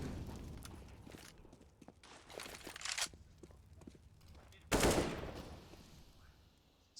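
CZ pistol gunfire in Counter-Strike: Global Offensive during a Natus Vincere vs. Team Liquid match on Mirage, with several quick, sharp shots followed by a louder burst, amid footsteps and faint game ambience.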